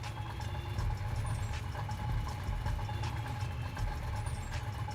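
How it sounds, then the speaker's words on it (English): A muscle car engine in the video game Need for Speed Heat idles steadily with a low, throaty rumble and slight lope, constant and close, with no voices. "Listen to how it sounds when it's idle"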